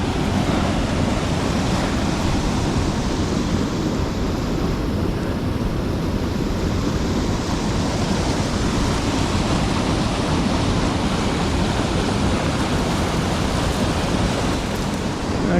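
Water rushing over an abandoned logging dam on a river in Northwestern Ontario, a dense, steady, close roar with no break.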